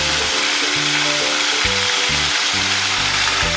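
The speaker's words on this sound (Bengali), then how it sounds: "আমি আস্তে আস্তে ম্যারিনেট করা চিকেনগুলো দিয়ে দিচ্ছি" Marinated chicken added piece by piece to a hot pan for a white chicken korma, a loud dense sizzle that swells with each addition, close and without speech, with a faint low hum underneath.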